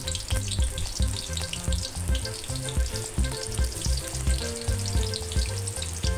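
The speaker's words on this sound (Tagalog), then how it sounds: "sa isang kawali, naglagay na tayo ng mantika at painitin natin. Nilagay na rin po natin ang ating bawang." Garlic frying in hot oil in a pan, with a dense, steady sizzle and crackle that runs continuously throughout with no talk.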